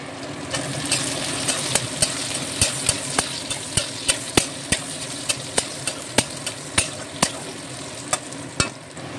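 Sliced capsicum and garlic fry for chili chicken in a pan, a dense steady sizzle broken by regular sharp scrapes of a spatula stirring about twice a second, close and loud with no talking.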